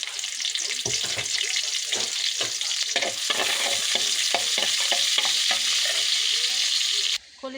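Onions and chilies fry in a pan on a home stove while being stirred, giving a steady close sizzle with repeated scraping stir strokes that runs unbroken for about seven seconds, then cuts off abruptly.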